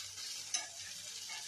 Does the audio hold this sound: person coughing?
no